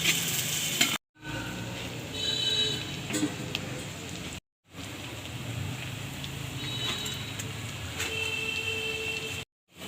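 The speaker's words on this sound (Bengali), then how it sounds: "আমি ভালোভাবে নেড়ে নেব, যতক্ষণ না বাদামি কালার হবে আমি এভাবে নাড়তে থাকবো" Sliced onions sizzle steadily in a hot pan while being stirred until brown, with scraping stir strokes over the frying hiss, broken by two short silent gaps.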